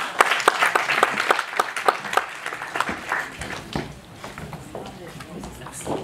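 A room of people at an employment forum applauds to welcome a speaker, brisk distinct claps that thin out and fade as a voice takes over and talks through the rest.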